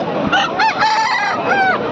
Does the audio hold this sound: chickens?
yes